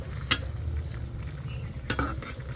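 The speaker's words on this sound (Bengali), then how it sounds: "তরকারি যদি একটু বলক আসে তাহলে একটু লাড়া দিতে হয়" A curry being stirred in a cooking pot as it comes to a boil, with two brief sharp scraping clanks of the utensil against the pot over a low steady simmering hum.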